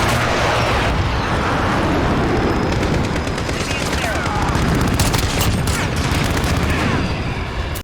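Rapid rifle fire in a first-person shooter, a dense, loud, continuous stream of shots with sharp cracks and heavy low booms, unbroken from start to finish, with no talking.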